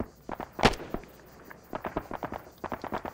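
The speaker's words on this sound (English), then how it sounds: "Oh, someone's shooting." Scattered sharp cracks of gunfire in the military game Arma 3, one loud report followed by quicker, fainter shots in irregular clusters.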